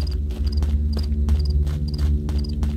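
In the horror video game Shadows Peak, frogs croak in a steady rhythmic pulse of chirping calls over a dense low ambient drone, the night chorus continuous and moderately loud.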